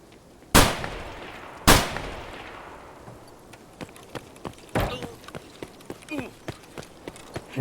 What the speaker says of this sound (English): this dude's dumping a freaking mag on us